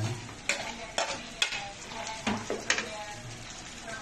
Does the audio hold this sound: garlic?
yes